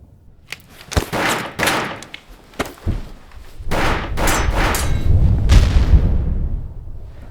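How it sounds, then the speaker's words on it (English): A series of sharp, loud bangs in quick bursts, some close and some echoing, with a rumbling tail at the end. "Hey, I heard gunshots."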